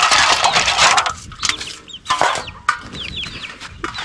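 Backyard chickens cluck and squawk loudly and close, short busy chirps and clucks overlapping with scuffling and rustling around a water container, no talking.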